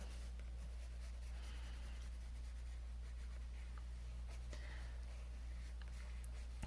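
Pencil shading on paper, a soft steady scratchy graphite rasp close up, continuous and quiet with gradually building pressure, no voices.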